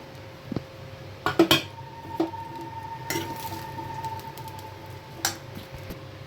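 Paneer fried rice being tossed and mixed in a pan: scattered spatula scrapes and metallic clinks over a low, soft sizzle, with a few sharper knocks against the pan rim.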